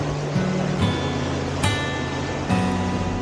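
Sea waves surge into the Brahman Ghal rock gorge at Hedvi on the Konkan coast, a continuous roar of churning water broken by several heavier crashing pulses, heard close and without talk.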